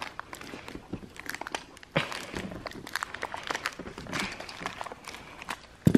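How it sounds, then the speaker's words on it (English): Scissors snip and crunch through plastic toy packaging for a Hexbug Nano Space set, making irregular close scratchy cuts with a sharper snap near the end. "Ah, scissors is getting stuck"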